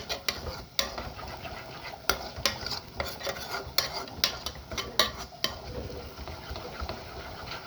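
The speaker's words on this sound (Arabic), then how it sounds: "نفضل نقلب فيها كده لحد البصله دي ما تحمر" Onions being stirred as they fry in a pan for a mahshi stuffing sauce produce repeated sharp scrapes and clacks of a utensil against the metal. The strokes come at an uneven rhythm over a soft, continuous sizzle, up close and with no voices.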